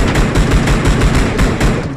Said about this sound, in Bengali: এনিমি মারো, গুলি করো, গুলি করো।